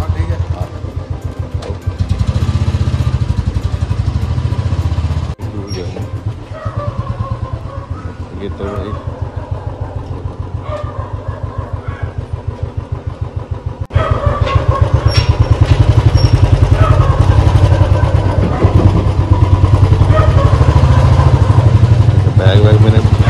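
A motorbike ridden on an open road during a long-distance ride from Faridabad to Rishikesh, its steady, loud engine drone and wind rumble running throughout, growing louder and fuller near the end.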